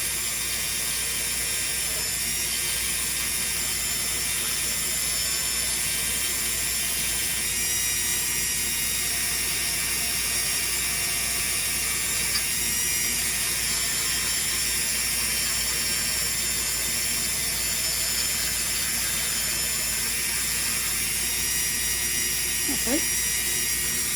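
A Ryobi rotary tool fitted with a drum mandrel and a 240 grit sanding band whines at a high, steady pitch throughout, shaping a homemade mold for leather work, with a brief scrape near the end.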